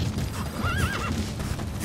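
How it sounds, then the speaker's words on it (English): A horse in Metal Gear Solid V: The Phantom Pain gives a clear, wavering whinny in the middle of the clip over low, steady rumbling hoofbeats. The sound is moderately loud and close. "Come on, horse. Run to me."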